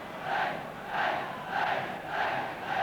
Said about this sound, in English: Crowd getting warmed up now, both ends of the ground.